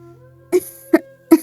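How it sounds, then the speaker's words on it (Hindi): A sick cartoon mother bird coughs three times in short, sharp bursts spaced roughly evenly apart over a faint steady background tone. "मामा चिड़िया सारी रात खांसे"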